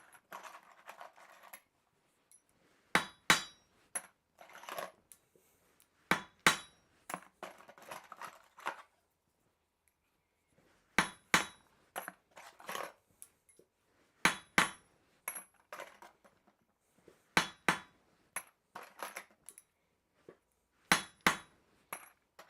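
Blacksmith hammering and punching hot steel at a forge, sharp metallic hammer strikes in clustered bursts of several blows each, separated by short pauses, ringing and close, with no speech.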